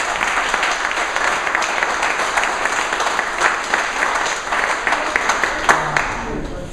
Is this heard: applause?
yes